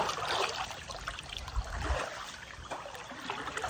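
Strong river current rushing and splashing steadily, a dense broadband wash of flowing water close by, with brief heavier surges partway through and no voices.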